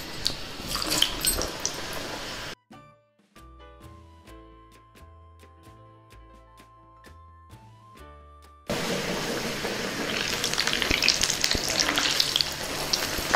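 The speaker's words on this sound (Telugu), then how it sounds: "నూనె వేడెక్కింది, వీటిని వేయించుకుందాం." Pieces of elephant foot yam frying in hot oil, a loud dense sizzle that cuts out for a stretch with a bare musical interlude between, then returns strongly and continues.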